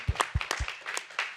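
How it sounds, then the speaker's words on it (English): A small audience at a policy and funding conference gives sparse, scattered handclaps, a few distinct claps spaced out and fairly quiet, thinning toward the end. "Yeah, round of applause."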